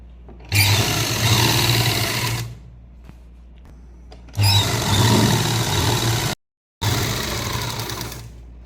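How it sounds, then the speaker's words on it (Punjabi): Electric sewing machine stitching the lining of a salwar, running in three loud bursts of steady whirring separated by short pauses, with no talking. "ਹੁਣ ਇੱਥੇ ਆਪਾਂ ਮਸ਼ੀਨ ਰੋਕ ਲਾਂਗੇ ਠੀਕ ਹੈ ਉਹਨੇ ਵਾਪਸ ਸਲਾਈ ਲਾ ਲਾਂਗੇ ਇਹਨੂੰ ਪੱਕੀ ਕਰਨੀ ਹੈ"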